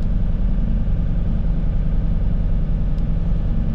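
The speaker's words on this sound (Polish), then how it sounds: "zagrzejemy też silnik oczywiście" A Skoda Superb 2.0 TDI diesel (170 hp, CFGB engine, DSG gearbox) idles while warming up, a steady, close, loud low rumble that holds even throughout with no speech.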